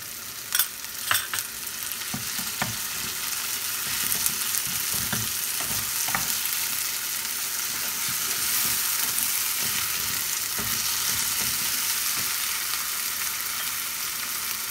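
Chopped tomato sizzling in a kadai pan of frying prawns, a steady crackling hiss broken by the scrape and clatter of a spatula stirring, close by with no talking.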